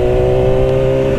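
Engine of a 2008 Yamaha R6 motorcycle while riding at moderate speed, a steady loud tonal drone with stable pitch throughout, no talk over it.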